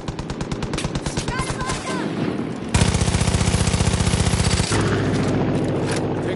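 Machine gun strafing in Far Cry 5: rapid bursts of automatic fire, first in quick stuttering volleys, then a loud sustained rattling stream that shifts pitch midway, close and dominant.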